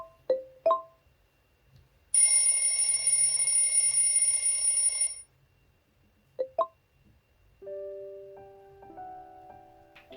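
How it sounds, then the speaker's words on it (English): An electronic alarm from a Mi Band table speaker rings loudly in a steady, high-pitched tone for about three seconds, framed by short chimes and followed by a quieter rising series of beeps. "Now let's see how it looks when the alarm is triggered."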